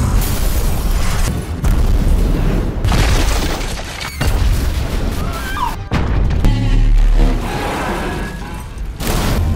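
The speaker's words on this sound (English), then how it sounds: "this causes Joseph to unintentionally transform into an explosion capable of moving at the speed of light" Explosion effects from a sci-fi movie scene: a series of loud booming blasts and crashing impacts with shattering debris, separated by brief gaps, dense and forceful throughout with no talk.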